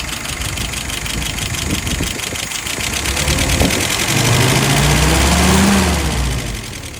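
A steady engine hum runs throughout, loud and close, with a low droning tone that rises slightly toward the end before easing off.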